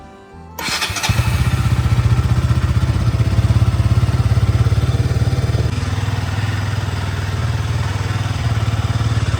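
A motorcycle starts with a sudden loud catch, then settles into a steady, close, throbbing engine run as it pulls away and keeps riding, with no voices over it.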